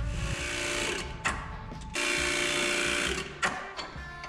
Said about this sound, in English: Let's go crimp another hose, and then we're down to one more.